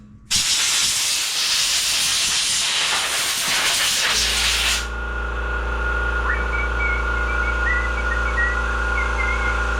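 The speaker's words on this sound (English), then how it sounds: "Let me blow this filter cover out." Compressed air blasts loudly against a Troy-Bilt TB200 push mower's filter cover for about four seconds, a harsh broadband hiss that cuts off abruptly and leaves a low steady hum behind.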